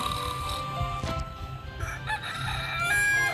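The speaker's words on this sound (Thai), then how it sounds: "นี่มีเสียงไก่นะคะทุกคนตอนเช้าอ่ะตอนนี้นะ" A rooster crows clearly in the mobile game Santhai over a background of game music and ambient tones, one long drawn-out call.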